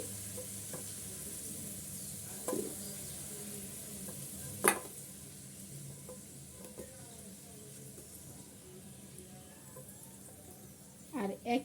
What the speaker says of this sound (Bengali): এই ফুলকপিগুলো দিয়ে আমি ভেজে নিচ্ছি